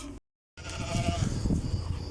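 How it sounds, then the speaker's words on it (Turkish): Newly bought Maltese goats, just brought home, give a short bleat nearby over a rough, noisy background after a brief dropout at the start. "Getirdik keçilerimizi indirdik şimdi eve."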